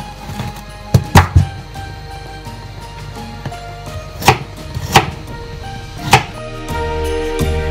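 Knife slicing carrots into cubes on a cutting board, a handful of crisp irregular chops and thunks close up, some in quick pairs, with no talk.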